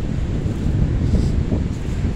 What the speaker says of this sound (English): It's really windy out here, bad.